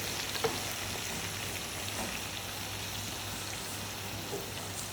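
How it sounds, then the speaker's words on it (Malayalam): A long fish, folded to fit, fries in coconut oil in a pan, giving a soft, even sizzle with a few faint pops and no talking. "ഇനി ഇത് നമ്മൾ പൊരിക്കുകയാണ്. അപ്പോൾ പാനിലേക്ക് വെളിച്ചെണ്ണ ഒഴിച്ച് കൊടുക്കുക."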